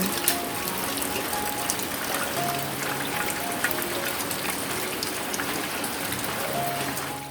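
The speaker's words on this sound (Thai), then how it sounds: "พอดีกำลังถ่ายคลิปอยู่ดีๆ ฝนตกลงมาเลย" Rain falling behind a rural house: a steady, dense hiss of drops pattering on surfaces, with faint trickling water mixed in, constant and fairly loud throughout with no voices.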